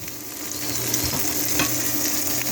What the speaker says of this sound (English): I'm going to go ahead and put my meatloaf in the pan right here.